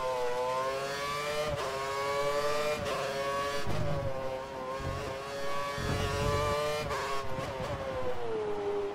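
Formula 1 car engine in the F1 2013 racing video game, a Lotus at Abu Dhabi, holds a loud, steady high-pitched whine for the whole stretch, with brief dips and rises in pitch as gears change.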